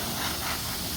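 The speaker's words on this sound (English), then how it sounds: "I'll take my gun, half trigger, just with a little bit of air, and we'll just dust off" A spray gun at half trigger blows a gentle stream of air to dust excess metal flake off fresh gelcoat on a Mastercraft boat, a steady close hiss with no speech.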